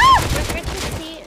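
Gunfire in the survival video game Rust: a short, loud, close burst of rapid shots that trails off quickly.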